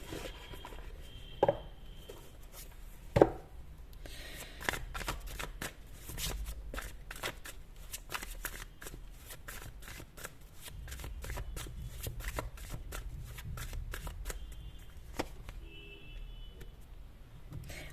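A tarot card deck is shuffled close up, a steady stream of soft riffling taps and flutters running throughout with a few sharper card knocks early on, with no voice over it.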